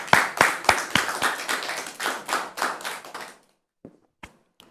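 A studio audience at a French-language talk show bursts into applause, a dense run of claps that fades out after about three seconds, followed by a few scattered, isolated taps.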